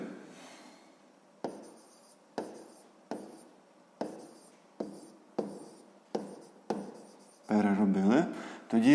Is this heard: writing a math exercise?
yes